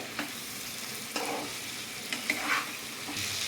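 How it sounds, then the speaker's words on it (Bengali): Fried chicken pieces are stirred into a cooked-down spice paste in a pan for chicken kosha, giving a steady close sizzle broken by several sharp scraping strokes of the spoon. "চিকেনগুলোকে এবার মশলার সাথে মিক্স করে দেবো"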